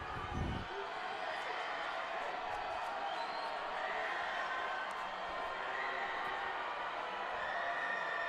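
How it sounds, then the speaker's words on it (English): Crowd at a high school football game between West Salem and Grants Pass getting loud on third down, a steady roar of cheering and shouting spread across the whole stretch, with some speech mixed in. "The fans getting loud. They're trying to cheer their defense on."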